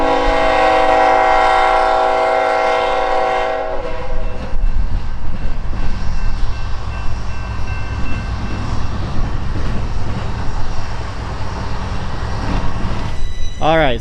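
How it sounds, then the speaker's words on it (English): A westbound freight train departs at the Fostoria rail park, its loud horn blaring in long stacked tones at first, then giving way to a steady rumble of rolling wagons and engine noise close by, with a faint pitch sweep at the end. "This train is clear to go west, so it'll be fun to follow it all the way around the curve here."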